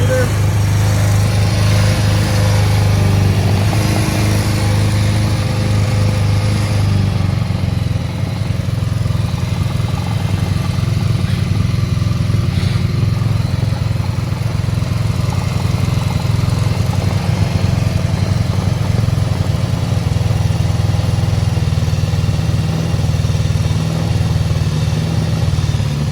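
An old motorcycle rescued from the junkyard idles steadily without a battery, a loud, close, constant chugging that shifts pitch slightly partway through, with someone talking over it.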